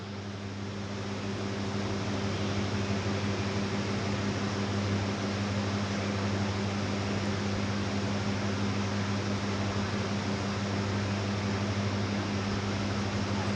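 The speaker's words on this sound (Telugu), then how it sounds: "చూడండి ఫ్రెండ్స్, మనకి ఇవి ఇక్కడ ఫ్రై అవుతున్నాయి" Onion bajji deep-frying in oil over a medium flame gives a steady, even sizzle and bubbling hiss that holds at one level throughout, close and uninterrupted, with no voices.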